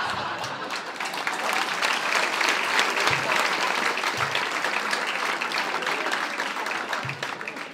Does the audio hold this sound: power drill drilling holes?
no